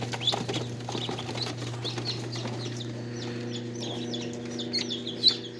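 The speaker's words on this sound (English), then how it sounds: "this is what they call a gray runner, and it is wild pattern, so it's mallard pattern" Gray runner duckling in mallard wild pattern, being handled, giving repeated high peeping chirps over a steady low hum, with a brief louder cheep near the end.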